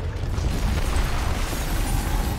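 A loud, booming sniper shot and blast noise in Gears of War, a dense burst of sound filling the short moment without talk.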